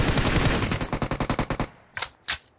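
Rapid automatic gunfire from PUBG Mobile rattles in a loud, fast burst for well over a second, followed by two separate sharp single shots after a short pause.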